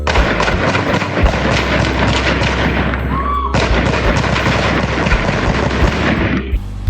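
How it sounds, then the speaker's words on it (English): Loud, sustained bursts of rapid gunfire, dense and overlapping, with a brief lull in the middle before the shooting resumes. "Then we hear gunfire."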